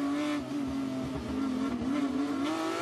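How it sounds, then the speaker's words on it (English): Porsche Supercup race cars roar at the race start at Monza, a loud sustained engine drone with shifting pitch from cars close by, heard alone without commentary. "A lot of wheel spin."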